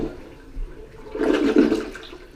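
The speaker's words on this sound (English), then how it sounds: "Nice cute little flush there." A Delta Foundations toilet, newly installed in a mobile home, flushes with a loud rushing swirl of water that swells midway, close by with no talking.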